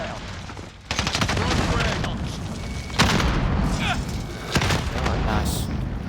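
Frag grenade blast and gunfire in Call of Duty Warzone, heavy booms and crackling shots amid dense battle noise, with a player talking over the action.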